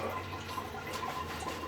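Water runs steadily from a tap into a basin while a pet cat is being bathed, a continuous splashing, gurgling flow at close range with no talking.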